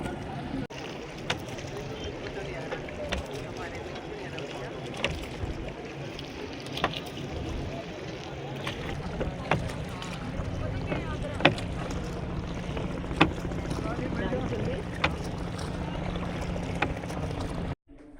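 A boat on the Yamuna at Prayagraj, with a steady low rumble of water and motion running throughout under wind noise on the microphone and scattered knocks and clicks, while people talk nearby.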